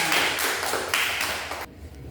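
Applause in a classroom for a student named Ina, a burst of dense clapping from a group that fades and cuts off abruptly near the end.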